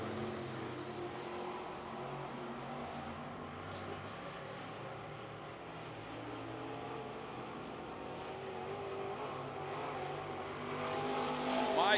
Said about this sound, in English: Once they get around Tim Dale, it'll be a clear racetrack.